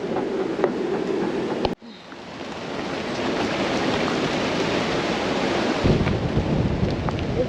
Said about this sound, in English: The weather's been gusting like this for the last 3 hours nearly, and Gaurav's just gone there ahead to make